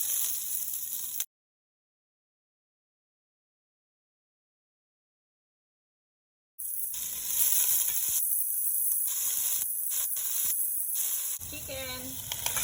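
Ginger and garlic sizzle in hot cooking oil in a pan, a loud steady frying hiss close up, with a silent gap partway through.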